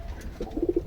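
Pigeons kept on a Bangladeshi village loft give a few soft, low coos in quick succession, faint and close, over a dull background rumble.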